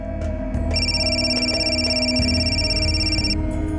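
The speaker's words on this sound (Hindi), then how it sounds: "अरे किसका फोन आ रहा है बार बार?" A telephone rings with a steady electronic trill lasting a few seconds over a low background hum, fairly loud and close.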